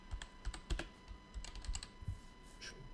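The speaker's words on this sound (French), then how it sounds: "Clavier." Typing on a PC computer keyboard, a quick run of clustered keystrokes with short pauses, close and moderately quiet, with no talk.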